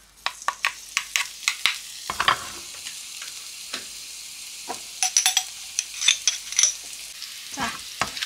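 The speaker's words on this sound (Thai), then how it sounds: "ไปผัดเนาะ" Red curry paste stir-fried in a pan gives a steady low sizzle, broken by sharp scraping and clacking strokes of a utensil against the pan that come in quick runs, close and fairly clear, with no talking.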